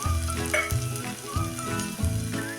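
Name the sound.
cumin and mustard seeds crackling in hot oil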